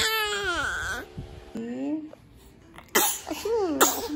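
A single sharp sneeze bursts out near the end in a household with a crying infant, following fussy wailing and whimpering cries earlier on, all close and fairly loud.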